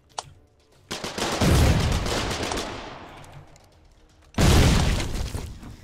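Gunfire from the war game Foxhole, with a sharp early crack and then a long burst of heavy rattling fire that fades slowly, followed by another loud sustained volley close by.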